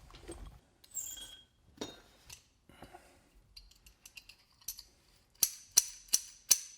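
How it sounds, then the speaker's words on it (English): Short metallic scraping and rubbing strokes of metal against metal on a fishing reel's free spin pawl, close up, ending in a run of four sharp, evenly spaced metal clicks. "You can tell the sound, that's metal against metal."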